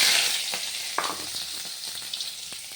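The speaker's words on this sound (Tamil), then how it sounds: "இப்போ வெட்டி வச்ச வெங்காயத்தை சேர்த்துக்கலாம்." Chopped onions sautéing in a pan of hot oil give a continuous close hiss and crackle, with occasional scraping taps from stirring and no voices.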